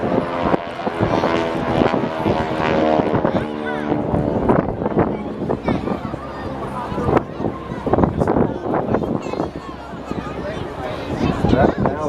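A propeller training aircraft flies at the Blackpool Air Show, its engine droning steadily with wind buffeting the microphone, while an announcer's voice talks continuously over it.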